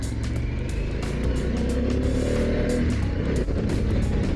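A 2022 Harley-Davidson Pan America 1250 Special motorcycle is ridden, its engine droning steadily under heavy wind rush, with no talking and no distinct revs standing out.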